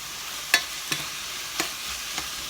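Fatty beef and Chinese kale are stir-fried in a pan: a faint sizzle runs underneath while four sharp spatula scrapes land at uneven intervals, the first the loudest.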